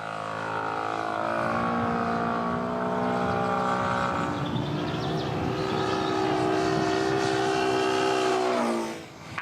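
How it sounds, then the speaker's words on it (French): A fast-moving scale model engine drones loudly as it passes by, its pitch sliding downward midway in a clear Doppler shift, then the sound fades quickly at the end. "Écoutons attentivement le bruit du moteur."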